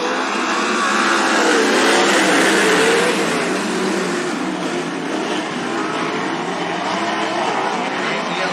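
Sprint cars roaring off at the start of a heat race at Southern Oregon Speedway, a loud sustained pack of engines revving and droning past, dominating throughout.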